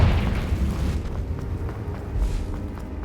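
A fiery Confringo spell explosion from the Hogwarts Legacy video game, a loud rumbling blast that fades into a low roar with a few soft pops trailing off.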